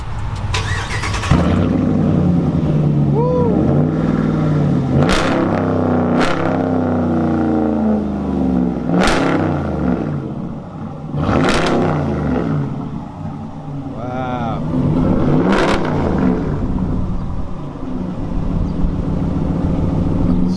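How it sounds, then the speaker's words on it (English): A 2019 Ram Rebel pickup's deep Borla aftermarket exhaust idles and rumbles, punctuated by several sharp, loud revs that rise and fall back to idle. "Let's go ahead and hear what this Borla exhaust sounds like."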